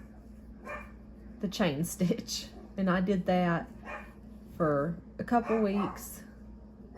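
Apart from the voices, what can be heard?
dogs barking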